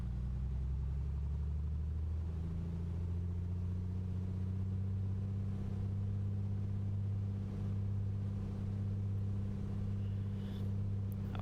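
A2A Comanche 250 piston engine in Microsoft Flight Simulator held at 2000 RPM during a run-up, a steady low droning hum with a slight rise in pitch early on, continuous and even throughout with no talking.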